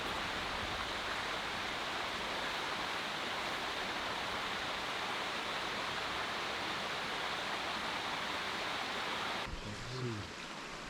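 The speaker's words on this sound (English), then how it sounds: "Not a very big creek." A small creek on an Alaska trail flows steadily, a constant broad rushing wash of water close by that fills the whole stretch, with a brief low bump near the end.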